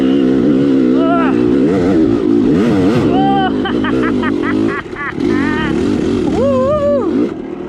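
A motorcycle revs and pulls in second gear while climbing a steep hill, a loud sustained engine roar with rising and falling pitch sweeps, heard close under a rider's excited talking.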